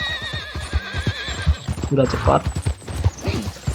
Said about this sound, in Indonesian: Sini bahkan sampai naik kuda juga